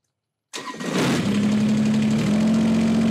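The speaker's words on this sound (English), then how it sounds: "the first step you're going to do is you're going to turn on the tractor" A Kubota BX23s compact tractor engine cranks and catches after a short silence, then settles into a loud, steady close-up idle with a constant hum throughout.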